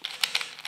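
Marusenko sphere puzzle being twisted and scrambled, a quick series of four or five light plastic clicks, close and fairly quiet.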